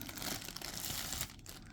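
Close-up crinkling and rustling of thin plastic, a busy crackle that softens slightly near the end.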